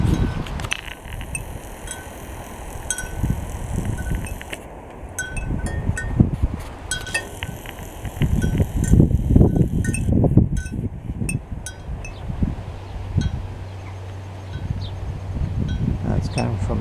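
Wind gusting past a homemade wind generator outdoors, a steady rough rush buffeting the microphone, with scattered light metallic clinks and rattles throughout.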